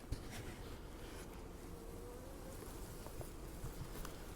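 Honey bees hum in a nucleus colony hive as a faint, steady drone with light crackles, no voices present.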